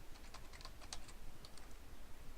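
Password being typed on a computer keyboard, a quiet series of irregular, close key clicks in small bursts over a low background hum.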